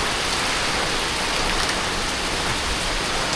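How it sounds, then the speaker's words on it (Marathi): Heavy monsoon rain with wind in the Konkan region, a loud, unbroken roar of downpour on surfaces filling the whole stretch. "पण आत्ता एकदम मुसळधार धो पाऊस आला आहे"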